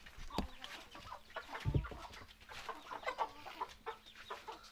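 Two Tiger breed chickens cluck softly in short bursts close by in a small enclosure, with a low steady hum and scattered rustling in the background.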